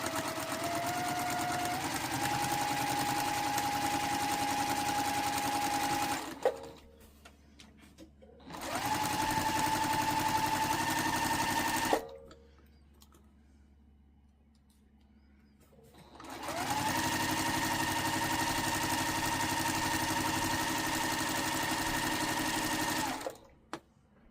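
A sewing machine stitches fat-quarter fabric for a valance in three loud, steady bursts of rapid whirring, separated by short quiet pauses.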